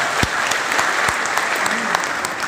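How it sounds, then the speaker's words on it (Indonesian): An audience at a governor's public lecture welcoming new students at a university in Medan, North Sumatra, claps in a steady, dense burst that fills the space, with some crowd noise mixed in. "Tepuk tangan untuk kita semua"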